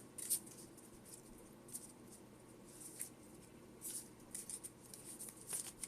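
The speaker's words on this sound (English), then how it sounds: "Let me cut it again a few times." Pokemon trading cards being cut and shuffled by hand, a series of faint crisp papery flicks and riffles spread across the few seconds, quiet and close with no talking.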